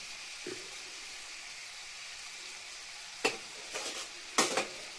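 Tomatoes cooking in a pan for a tomato egg curry, a quiet low simmer broken by a few short sharp scraping stirs of a utensil near the end.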